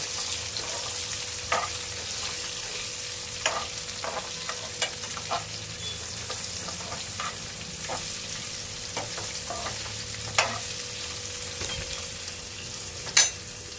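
Onion, ginger and garlic sizzle and fry in a pan as a spoon stirs them, a steady crackling hiss broken by scattered scrapes and knocks, close and without talk.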